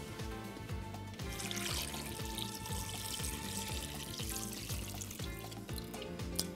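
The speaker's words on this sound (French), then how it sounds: "Je rajoute de l'eau." Water running steadily into a cooking pot while preparing syrup for Moroccan chebakia, a continuous close pouring and splashing with a faint ringing tone from the pot, no voices.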